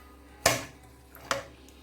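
Beef pieces dropped into a pressure cooker holding chana dal, two distinct clunks about a second apart, close and fairly loud against a quiet kitchen background with no talking.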